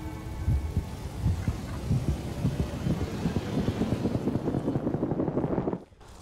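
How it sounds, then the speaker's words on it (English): Rage heartbeat effect from the video game DC Universe Online: a steady, thudding low pulse beating repeatedly under a dense rumbling game soundtrack, cutting out abruptly near the end. "You have the in-game sound you can listen to for the heartbeat."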